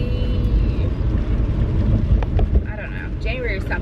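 A car driving on the road, heard from inside the cabin as a steady low rumble of engine and road noise with some wind buffeting; a voice speaks faintly over it.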